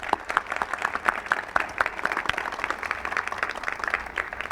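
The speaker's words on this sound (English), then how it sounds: "let's give her a round of applause" Audience applause at a police facility dedication and grand opening ceremony: steady, moderately quiet clapping from a gathered crowd, sustained throughout with a slightly distant feel.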